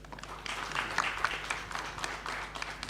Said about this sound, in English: So please, a big round of applause to the panel.